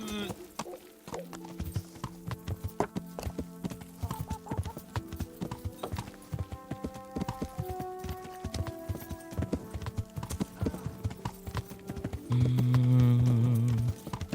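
Horse hooves clip-clopping in the video game Kingdom Come Deliverance, a steady trotting rhythm over game music, with a brief louder swell near the end.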